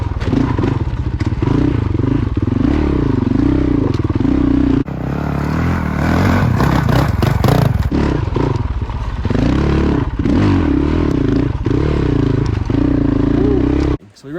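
Off-road motorcycle grinding slowly up a tight, technical rocky trail in Colorado, engine droning steadily with clattering and scraping from rocks, close and loud throughout, briefly dipping near the end.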